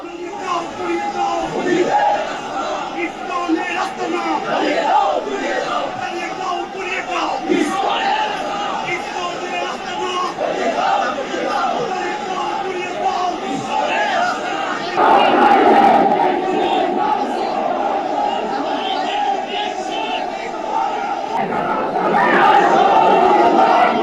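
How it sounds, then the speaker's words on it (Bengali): A crowd of Jamaat lawyers on court premises shouting anti-India slogans, loud and sustained throughout, with rhythmic chanting that swells and grows louder near 15 seconds and again toward the end. "আদালতের মধ্যেই ওঠে ভারত বিরোধী স্লোগান।"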